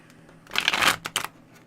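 Tarot cards being shuffled by hand, a short burst of crisp riffling flutter followed by a couple of quick slaps of the deck, close and clear with no talk.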